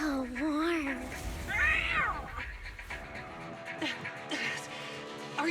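Several drawn-out cat meows, rising and falling in pitch, come from the video game Zenless Zone Zero. They are loud and close, with a voice talking between and over them.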